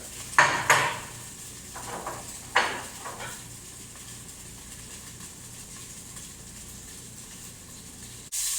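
A second batch of beef tossed into a hot pan for steak Mexicana, with a few sharp metallic clanks and utensil knocks near the start, then a quiet low sizzle.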